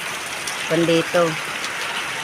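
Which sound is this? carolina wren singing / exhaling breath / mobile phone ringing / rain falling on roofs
rain falling on roofs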